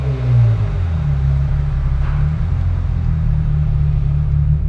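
A Ferrari 355 GTS pulls away with a loud, close engine rumble that swells briefly at the start, then settles into a steady low drone.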